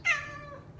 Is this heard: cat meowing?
yes